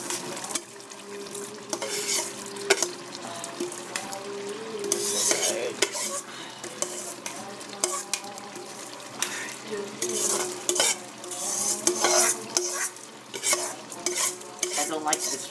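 A utensil scrapes and stirs rice with greens in a sizzling frying pan, steady frying hiss under repeated clinks and scrapes against the pan, close and continuous without speech.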